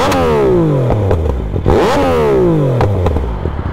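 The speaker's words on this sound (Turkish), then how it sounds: "Şimdi arkadaşlar egzoza bakın şimdi." Yamaha MT-09 motorcycle exhaust revved hard several times, close and loud, each rev climbing then falling back with crackles and pops between throttle blips.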